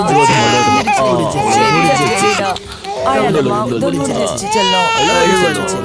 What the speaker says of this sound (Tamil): ஏதோ குழந்தை அழுகிற சத்தம் கேக்குதுடா.